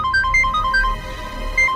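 A mobile phone rings with a bright repeating electronic melody, tones cycling in quick steady bursts, fairly clear over a low background hum, with no talking.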